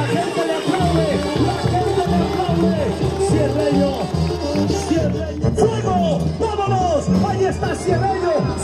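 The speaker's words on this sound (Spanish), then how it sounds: "¡La gente le aplaude!" Crowd cheering and applauding at a bull riding event in Cocoyoc, Morelos, a loud, continuous roar of voices and clapping under an excited announcer's fast commentary.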